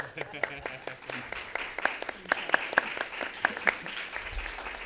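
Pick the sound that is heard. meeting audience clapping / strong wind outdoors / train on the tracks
meeting audience clapping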